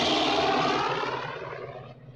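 A propeller airplane engine drones loudly and close in the film Casablanca, a broad rumbling roar that gradually fades as the aircraft moves away.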